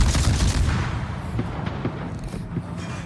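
Secondary guns of the warship Scharnhorst firing in World of Warships, a dense, rumbling run of deep booms and cannon reports, loud and sustained, layered over constant battle noise.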